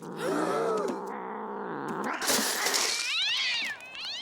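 A cat meows and yowls in drawn-out, wavering cries, close and loud, ending in a few shorter rising calls.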